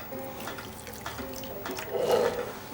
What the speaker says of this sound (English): And then about the same amount of water as in the tin of tomatoes as well.